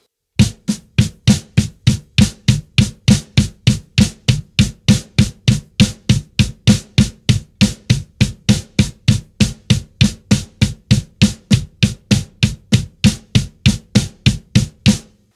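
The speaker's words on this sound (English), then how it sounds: "if you were to do just the snare pattern and the kick pattern both together" Kick and snare drum hits alternating in a fast, even, driving pattern, unbroken for a long stretch, loud and close with no other sounds.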